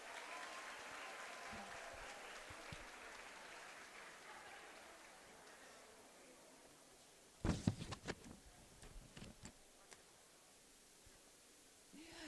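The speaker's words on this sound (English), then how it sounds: "Give it a round of applause." Faint applause from the audience at the opening ceremony of a jigsaw puzzle nationals event, a soft distant wash that thins out, followed by a few sharp nearby knocks and handling sounds.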